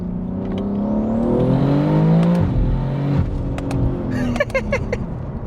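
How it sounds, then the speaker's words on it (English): An 800 hp single-turbo BMW G81 M3 Touring pulls hard from inside the cabin, its engine note climbing steadily through rising revs, then dipping at a gear change before a burst of crackles and clicks. "This car has a huge turbo. And when it starts spooling, the car starts flying."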